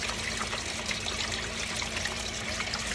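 An aerator runs in a kayak livewell, water trickling and bubbling steadily at close range with a low constant hum beneath it.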